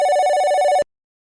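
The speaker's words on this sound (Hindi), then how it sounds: "उन्हीं का फोन आ गया।" A telephone bell rings in a fast, continuous trill, loud and close, then cuts off abruptly into silence.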